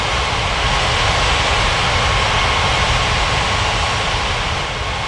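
Loud, constant jet engine roar of an aircraft taxiing to runway 27 at Ngurah Rai Bali International in the Unmatched Air Traffic Control game, a dense, unbroken wash with no voices.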